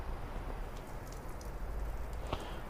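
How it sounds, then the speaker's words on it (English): Fine rain falls outside a garage, a soft, steady patter with scattered individual drops ticking nearby, quiet and continuous with no voices. "You can literally see the rain pouring down."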